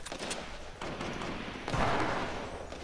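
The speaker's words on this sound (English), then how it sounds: "Go and towards the gunfire." Muffled bursts of video game gunfire crackle at a distance, with a heavier thud partway through, fairly quiet overall.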